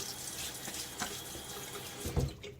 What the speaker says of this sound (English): All right, a little bit more water on my face